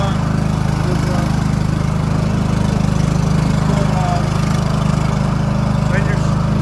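A Stiga Park compact ride-on lawnmower with its engine running, a loud constant close-up buzzing drone, with a person speaking briefly over it.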